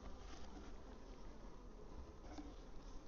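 Honey bees hum steadily around an opened hive during honey pulling, a continuous close, low buzz with no voices.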